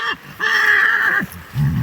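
A mare gives a loud, close whinny, one long quavering call with a shorter burst before it and another starting at the end, heard alone.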